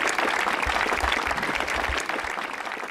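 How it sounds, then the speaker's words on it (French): An audience at the opening ceremony of the 2017 MRC Montcalm Games applauds the referee, Michel Landry, before he reads the officials' oath. Dense, steady clapping fills all three seconds and eases slightly near the end. "On l'applaudit."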